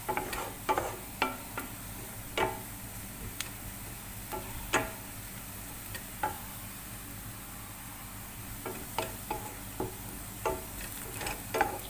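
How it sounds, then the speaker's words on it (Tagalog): Green beans frying in a hot pan for Lebanese loubieh, a soft steady sizzle punctuated by sharp ticks and scrapes from stirring, with no speech. "Tapos, ilagay natin yung beans."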